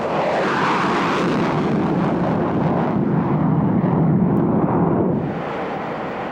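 A jet aircraft at about 30,000 feet near Mach 0.95 going into afterburner gives a loud, sustained roar that swells slightly and then eases off toward the end, with no talking.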